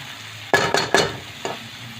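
Vegetables being stirred in a pan while cooking, four distinct scraping strokes over a low background sizzle, the first three in quick succession and the last after a short pause.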